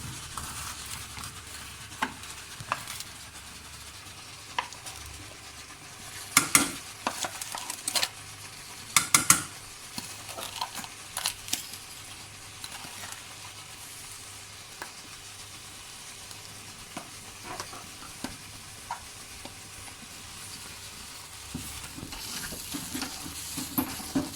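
Chana dal halwa roasting in ghee in a pan, with a soft steady sizzle under repeated scraping and stirring strokes and occasional sharper clinks of the spoon against the metal. No one speaks.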